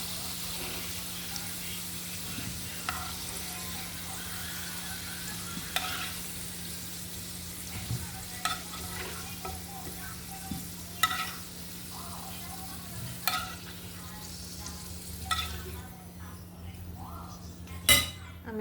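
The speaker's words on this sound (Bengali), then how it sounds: "বেগুনগুলো হালকা ভেজে নিব আমি।" Eggplant pieces fry in hot oil in a pan with a low, steady sizzle, broken by repeated clinks and scrapes of a utensil stirring against the pan, faint and close with a constant background hum.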